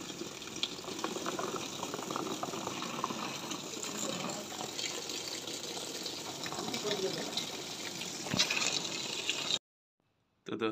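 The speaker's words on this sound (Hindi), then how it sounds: "हमारी मोटर लग चुकी है और पानी भी निकल आया है।" Water gushing steadily from a newly installed motor pump, a continuous loud rushing flow over about ten seconds that cuts off abruptly near the end.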